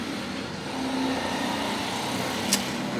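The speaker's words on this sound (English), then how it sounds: "do you hear these engines?" Steady vehicle engine noise outdoors in Greece, a continuous broadband rumble of passing traffic with no distinct pass-bys, moderately loud, with one short sharp click near the end.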